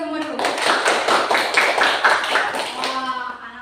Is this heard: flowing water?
no